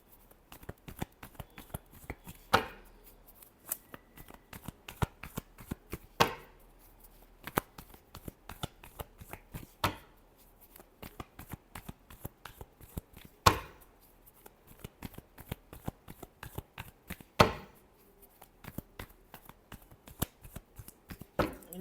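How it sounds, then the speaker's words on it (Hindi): A tarot card deck being shuffled by hand, with crisp riffling bursts repeating every few seconds between softer handling rustles, close and clear with no talking. "last shuffle"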